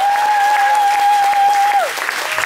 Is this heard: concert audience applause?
yes